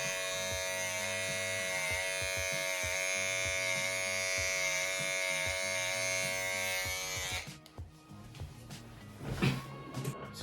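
An electric barbering clipper runs with a steady, close buzz for about seven seconds, then cuts off, followed by a few faint handling knocks.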